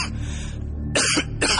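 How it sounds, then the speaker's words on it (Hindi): A man bursts into coughing during a horror story, with two loud, harsh coughing fits close up after a quieter, breathy lead-in. "खांसने लगा।"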